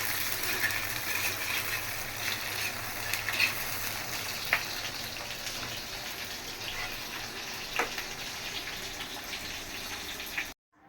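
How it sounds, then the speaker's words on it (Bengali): Shrimp frying in a pan on a stove with salt and dried chillies, giving a steady, moderately loud sizzling hiss with a few sharp pops and crackles throughout before cutting off near the end. "চিংড়ি মাছগুলো ভাইজা নিচ্ছি এখন লবণ দিয়ে আর শুকনো মরিচ দিয়ে"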